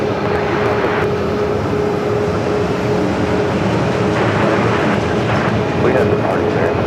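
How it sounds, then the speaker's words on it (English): An Airbus A321neo on its takeoff roll down runway 25 right at Phoenix Sky Harbor, a loud, steady engine roar that holds broad and even throughout, with faint tonal whine riding on top. "A321 Neo rolling down at 25 right"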